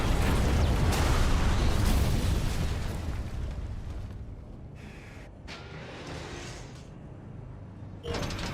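Rocket blasts in the mech combat game Armored Core VI, a loud booming explosion rumbling and fading over several seconds, followed by a few softer bursts and a sharp final hit.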